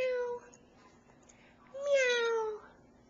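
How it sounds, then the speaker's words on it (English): Cats meow twice, a short near call followed by a longer, louder drawn-out meow after a pause, in an otherwise quiet indoor room. "They meow."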